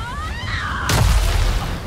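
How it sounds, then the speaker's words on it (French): A deep, booming explosion bursts midway through in Avatar Frontiers of Pandora, cutting off a rising tonal whine, with the low rumble lingering afterward. "j'ai atterri en même temps que l'explosion"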